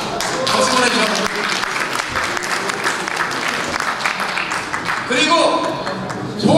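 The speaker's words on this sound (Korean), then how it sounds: "박수 보내주셔야 합니다." An audience of several hundred at a Korean forum's founding ceremony claps continuously, a close, dense patter of hands that swells again near the end, with indistinct voices mixed in.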